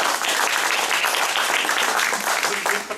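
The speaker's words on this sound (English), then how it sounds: "I think they deserve a round of applause." Sustained applause from an audience at a print museum presentation during Rare Book Week, a steady dense wash of many hands clapping throughout without pause.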